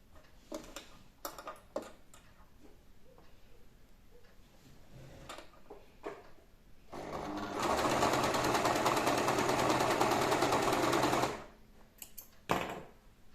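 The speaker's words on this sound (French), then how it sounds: "une fois qu'on a fini de tout coudre, si vous faites ça à la machine" Sewing machine stitching fabric for a garment, a loud steady whirring run of about four seconds after scattered handling clicks and taps, then stopping with a few more clicks.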